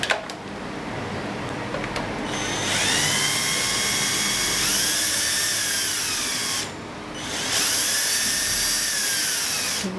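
A power tool whirs steadily while unscrewing bolts on the side mirror of a Chevrolet Captiva, running in two long sustained bursts separated by a brief pause, loud and close.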